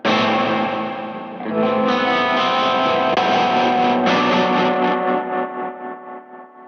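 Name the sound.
Valco Five-O pedal tremolo cutting off reverb trails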